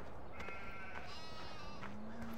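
Sheep bleating in the farming video game Farming Simulator 2013, with a few harmonic bleats rising and falling over a steady low ambient hum, fairly quiet and without talk.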